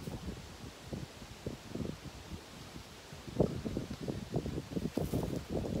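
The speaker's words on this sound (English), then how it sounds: "it's windy and I don't know if the microphone's gonna pick up anything" Wind buffets a microphone outdoors in an exposed clearing on Swamp Island, a continuous low rumbling roar with irregular gusty thumps that swell louder toward the end, and no voices.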